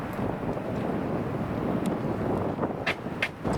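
A tailwind gusts across an outdoor disc golf course and buffets the microphone with a continuous rumbling rush, broken by a few brief brighter bursts near the end.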